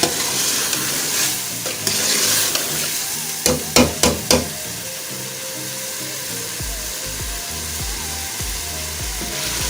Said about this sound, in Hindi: अब हम इसको अच्छी तरह भून लेते हैं।